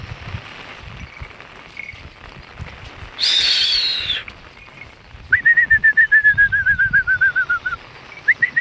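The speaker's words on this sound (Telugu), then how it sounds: "పిట్టెలు చూడండి ఎన్నిగానే ఉన్నాయి" Several birds call near a rain-soaked field, with a burst of wing flapping midway and a fast series of repeated loud calls afterward over a steady rain hiss.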